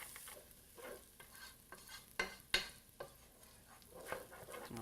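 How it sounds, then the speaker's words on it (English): Garlic sautés in a little oil in a pan for a tomato and mozzarella penne dish, with a soft steady sizzle and several sharp stirring scrapes and clinks of a utensil against the pan. "And we'll begin by sauteing our garlic."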